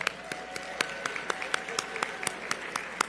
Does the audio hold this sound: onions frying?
no